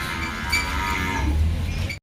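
A water buffalo lows with a low, drawn-out call close by at a busy buffalo market in Erragadda, Hyderabad, over a steady crowd murmur, ending abruptly.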